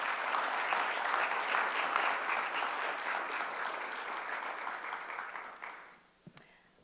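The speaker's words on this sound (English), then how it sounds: "One more round of applause for all of our award winners." A graduation ceremony audience applauds its award winners in a steady, full burst of clapping lasting about six seconds before fading out to a few last claps.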